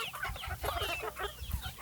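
Desi chickens clucking on a small backyard farm of around a hundred birds, a busy cluster of overlapping hen calls with a possible rooster, fairly close and continuous throughout.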